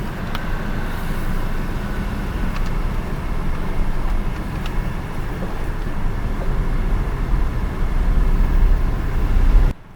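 A Volkswagen Up city car runs steadily, a continuous low engine drone with broadband road-like rumble building slightly before cutting off abruptly at the end, no talking.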